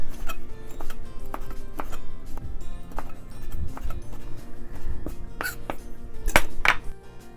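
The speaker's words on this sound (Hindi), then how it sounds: "इसको बारीक बारीक सा काट लेंगे।" A knife chops an ingredient finely on a cutting board for baked garlic potatoes, producing a steady run of close, crisp taps with a few sharper knocks near the end, set against background music.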